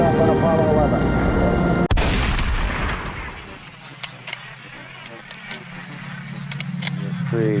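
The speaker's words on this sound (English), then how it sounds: "Liftoff on Apollo 11." A massive Apollo 11 rocket liftoff roar, a dense low rumble that swells and then breaks into crackling, popping bursts as the exhaust thunders on, loud and continuous.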